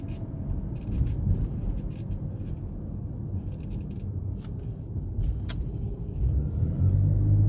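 Road traffic with cars driving, heard from inside a moving car as a steady, loud low rumble of engines and tires that swells slightly toward the end.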